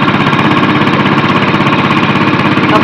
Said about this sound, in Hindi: गाड़ी स्टार्ट होगी पहली किक पे।